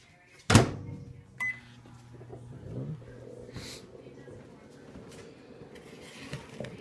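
Microwave oven defrosting a 3.5 to 4 pound venison roast: a sharp door thump and a short click, then a low steady hum with faint rattles running on alone.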